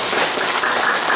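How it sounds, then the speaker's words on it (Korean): Audience applause at the opening of Sojeong Jeong Sun-jeong's solo art exhibition, a dense continuous wash of clapping that stays steady and fairly loud through the short stretch, with no voices over it. "박수 좀 주세요."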